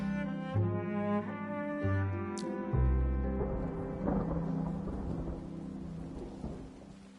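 Rumbling thunder rolls over a steady patter of rain in a video game, with a layered low tone underneath and a brief bright chime early on, the storm fading gradually toward the end.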